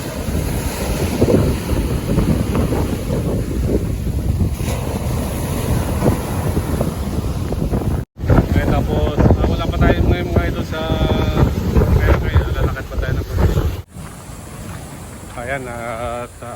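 Big high-tide waves crash and surge during a storm in Romblon, Philippines, under heavy wind buffeting the microphone, with a boat engine droning and voices talking intermittently over the rough water.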